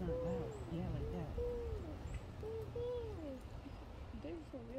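An owl hoots softly several times in an outdoor garden setting, low drawn-out calls repeating across the stretch, faint against background ambience, with people talking nearby.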